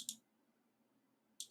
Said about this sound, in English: I keep clicking on stuff.